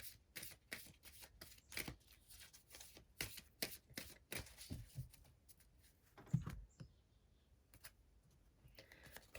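A deck of psychic cards shuffled close up, quick riffling flutters and soft taps in uneven bursts, fairly quiet, with a faint thump near the end and no talking.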